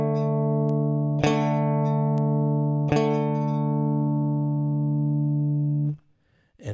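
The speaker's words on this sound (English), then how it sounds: "You are only going to strum the fifth string and the fourth string." A guitar power chord on the fifth and fourth strings rings out, re-struck twice so three sustained strums sound close and clear before it is cut off, with no voices.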